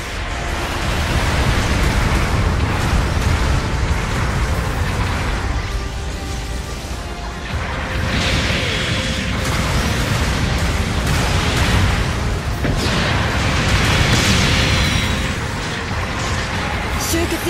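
Artillery bombardment in a mobile suit video game on the Ruined City map, heard as a loud, continuous roaring rumble of explosions that swells and eases without a break.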